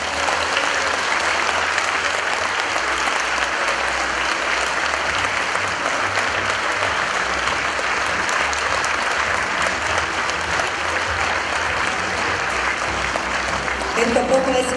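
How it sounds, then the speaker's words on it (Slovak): Sustained audience applause for kindergarten children at a town celebration, dense and steady for about fifteen seconds with a slight swell near the end, no talk over it. "Veľký potlesk pre nich"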